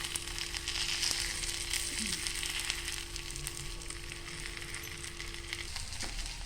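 Bangda mackerel fries in a pan with a steady, fairly quiet sizzle and crackle running throughout, with no talking.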